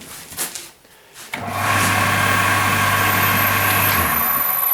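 Raimondi SA 25 tile and stone cutting saw starting up, then running steadily with a smooth, quiet motor hum and whine, close and continuous after a brief start.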